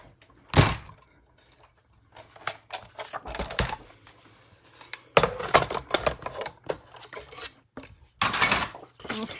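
A Stampin' Up Big Shot die-cutting machine is cranked by hand to cut card with Smooth Sailing dies, giving intermittent rasping, clunking bursts up close, with no talking.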